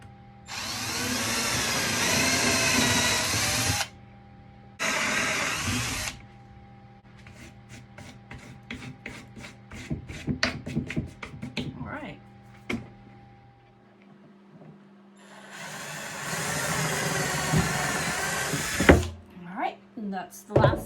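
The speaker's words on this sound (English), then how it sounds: "And I'm just going to drill into it." Power drill driving into pallet wood outdoors, several long whirring bursts of the motor separated by pauses, close and loud, with rapid clicking and tapping between runs.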